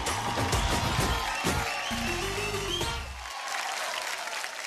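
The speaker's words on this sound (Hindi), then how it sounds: "एक बार जोरदार तालियां" Applause from a dance reality show studio audience, steady clapping mixed with loud tonal music and stings that drop away partway, leaving the claps alone.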